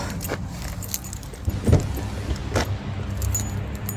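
Car keys jangle in a hand outdoors beside a car, several quick metallic clinking bursts close by over a faint background rumble.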